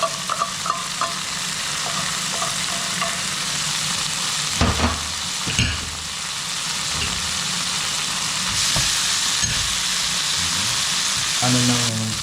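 Canned tuna frying and being stirred in a pan, a loud continuous sizzle with scraping stirs and a few knocks, over faint background music.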